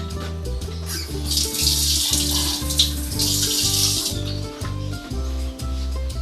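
Water runs from a tap in a steady hiss, with some rubbing and handling sounds underneath and a low mechanical hum.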